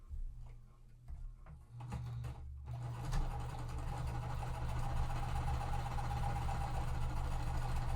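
A sewing machine stitches quilt fabric for a mystery quilt; after a few quiet handling sounds it starts up and runs in a steady, close, continuous whir to the end.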